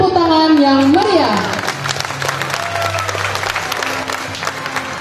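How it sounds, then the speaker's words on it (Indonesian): A crowd at the opening ceremony of a regional Sarasehan and Temu Karya gathering in the Riau Islands bursts into loud, sustained applause and clapping. A voice and a tone sound at the start before the clapping dies down into scattered claps. "Berikan tepuk tangan yang meriah."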